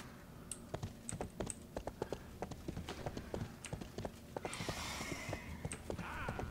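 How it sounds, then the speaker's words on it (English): Horse hooves clip-clop at a steady trotting rhythm in the RIFT fantasy video game, close and crisp, with a brief whoosh of game effects partway through and no talk. "Get on the horse."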